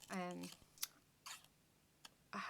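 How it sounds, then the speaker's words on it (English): Scissors make a few crisp, separate snips at the corners of a paper circle cut from a 12 x 12 sheet, close and quiet, with a voice briefly at the start and end. "I am just snipping on the corner"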